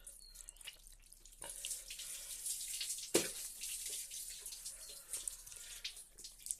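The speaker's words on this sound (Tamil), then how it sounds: "பச்சை தண்ணியை தலையில் ஊற்றணும்." Cold water pours and splashes continuously during a bath, a close running, trickling stream with small drips and one sharp splash partway through, no voices.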